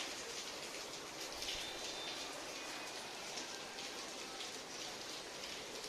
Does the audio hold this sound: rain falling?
yes